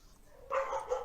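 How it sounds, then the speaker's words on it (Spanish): A dog gives a short, single burst of barking partway through, moderately close and loud, with quiet murmur before it. "Los perros se escuchan bien"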